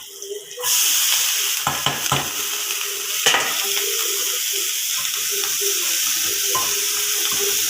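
Drumstick flowers drop into a hot pan and fry, a loud steady sizzle after an initial burst, with a few clattering stirs and scrapes breaking the hiss.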